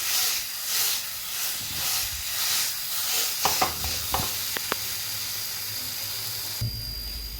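Banana and coconut sizzle in hot ghee as the mixture is mashed in the pan, a steady frying hiss with a few sharp scraping clicks from the mashing tool partway through.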